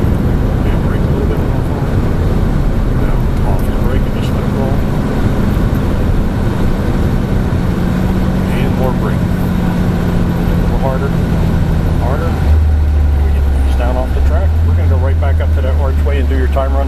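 A Dodge Challenger muscle car driving then braking, its engine drone and road rumble filling the cabin while people talk over it, the engine note dropping to a low steady hum near the end.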